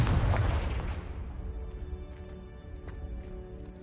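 Confringo spell explosion in a Harry Potter video game, a heavy booming blast that rings out and slowly decays over a few seconds, with faint crackling debris afterward.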